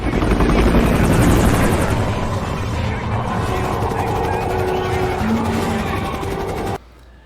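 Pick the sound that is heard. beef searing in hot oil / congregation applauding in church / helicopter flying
helicopter flying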